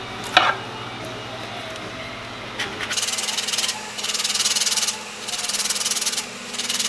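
Orange zest grated on a zester in repeated rasping strokes, close and fairly loud, coming in steady bursts with short pauses between, no talking.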